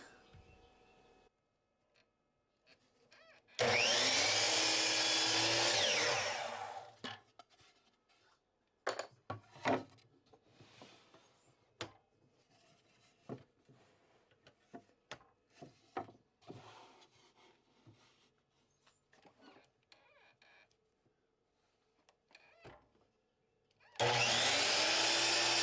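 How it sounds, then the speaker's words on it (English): Hand sawing through small wood pieces held in miter blocks, shown as scattered rasping strokes and knocks between two louder, sustained bursts of noise at the start and end. "I'm probably just going to take it over to the miter blocks and cut those off"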